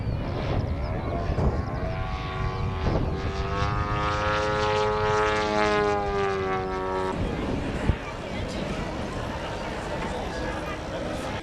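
A radio-controlled model airplane with a propeller engine flies at an aeromodelling meet, its high droning whine rising and falling in pitch as it passes, heard over steady crowd and outdoor background noise with voices around.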